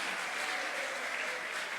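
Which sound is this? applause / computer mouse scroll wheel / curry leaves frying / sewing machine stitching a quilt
applause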